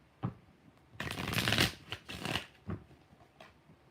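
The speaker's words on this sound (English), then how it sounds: "Three more shuffles." Tarot cards being shuffled by hand, close and quiet, in several short riffling bursts with one longer run in the middle and pauses between them.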